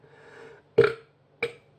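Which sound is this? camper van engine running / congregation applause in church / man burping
man burping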